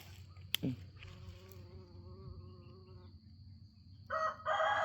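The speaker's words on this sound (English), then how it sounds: "It's a busy bee this morning." A steady, wavering insect buzz hums close by over soft background chatter of poultry, with a brief sharp tap early and louder clucking at the end.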